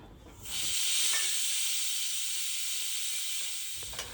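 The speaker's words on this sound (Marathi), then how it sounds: "आता यावरती झाकण ठेवून ना 3 शिट्ट्या मी घेणार आहे।" A pressure cooker cooking prawn rice lets out one sustained, loud hissing steam whistle that rises quickly and holds steady for about three seconds before cutting off, heard alone.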